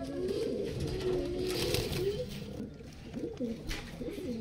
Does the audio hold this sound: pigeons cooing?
yes